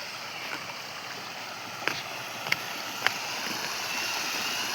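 Village river water rushing over rocks, a steady broadband wash of flowing water heard close, with a few faint clicks scattered through it and no voices.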